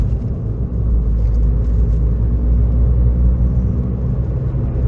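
Car accelerating up to about 50 km/h on a driving lesson, a steady low engine and road rumble heard from inside the cabin, with no talking.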